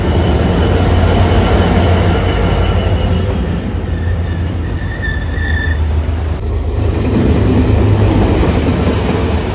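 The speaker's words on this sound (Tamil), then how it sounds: "யாழ்ப்பாணம் ரயில்வே ஸ்டேஷனில் நிற்கிறோம்" A train rumbles steadily close by at Jaffna railway station, with heavy low-end rolling noise and occasional high wheel squeals over a constant mechanical drone.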